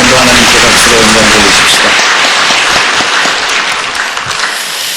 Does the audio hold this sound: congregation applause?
yes